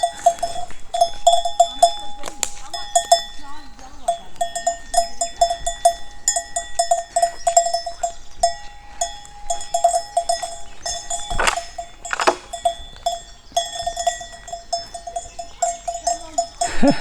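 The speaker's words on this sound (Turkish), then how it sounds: "bölgedeki köylerde yaşayan e, insanların hayvanları burada serbestçe otluyor" Village farm animals grazing freely in a Turkish neighbourhood: many bells clank and tinkle continuously at close range amid bleating goats or sheep, with occasional hoof clops and no talking.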